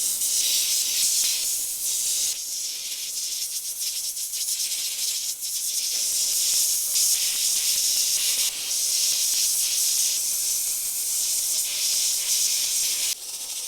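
An airbrush sprays paint onto a T-shirt for a basic beach scene, giving a steady, close, continuous airy hiss with a few brief dips where the trigger eases off.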